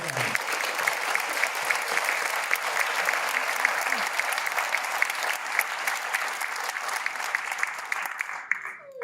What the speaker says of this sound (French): Nous pouvons applaudir cet élan de solidarité